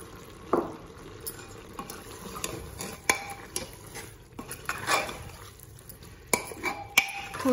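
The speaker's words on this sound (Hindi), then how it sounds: "थोड़ी देर ऐसे ही चलाएंगे" Hari mirch keema with onions stirred in a pan, quiet scraping of a spoon against metal in irregular strokes and clinks over a faint, steady sizzle, with no talking.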